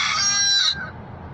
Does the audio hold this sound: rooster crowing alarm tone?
yes